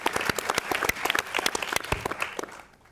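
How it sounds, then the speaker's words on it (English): A film Q&A audience breaks into brisk, close applause, many hands clapping at once for a few seconds before it quickly tapers off. "Let's have a round of applause for the incredible ensemble that surrounds these guys."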